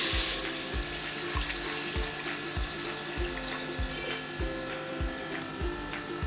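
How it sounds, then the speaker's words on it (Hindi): One litre of water is poured onto frying mutton, making a steady, close rush of water with a sizzling hiss and a regular pulsing knock under it. "गोश्त को अच्छे से 5 मिनट फ्राई करने के बाद अब हम इसमें डालेंगे 1 लीटर पानी।"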